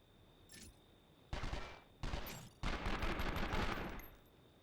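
Gunfire in the video game 24: The Game, arriving as three bursts of rapid automatic shots, the last the longest, loud against a faint steady hum with no voices.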